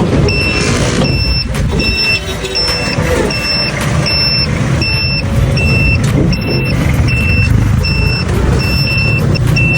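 Signal light of a stainless-steel family e-bike beeping in a steady, evenly spaced high-pitched pattern, repeating throughout over a loud, constant road and motor rumble.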